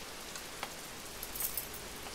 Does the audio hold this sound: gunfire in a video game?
no